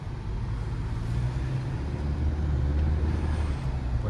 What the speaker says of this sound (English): You hear the little turbo.